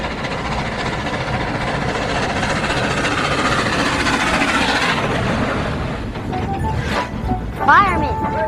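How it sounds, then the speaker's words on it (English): An Amtrak Southwest Chief passenger train running at 90 mph, with a loud, dense rushing rumble of wheels and motion filling the clip, a few faint tonal whistles or squeals near the end. "Here in America, one of the fastest trains is the Southwest Chief. Here we are going 90 miles an hour."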